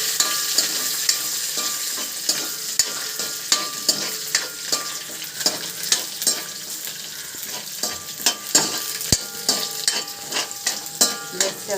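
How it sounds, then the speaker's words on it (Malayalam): Ginger and garlic sizzle and fry in a hot pan for a fish curry, a steady bright hiss broken by repeated stirring scrapes, close and continuous with no talking. "ഇഞ്ചി ഇട്ട് പിന്നെ അതിലേക്ക് വെളുത്തുള്ളി ഇട്ട് ജസ്റ്റ് അതൊന്നും മൂപ്പിക്കണം, വഴറ്റിയെടുക്കണം ജസ്റ്റ്."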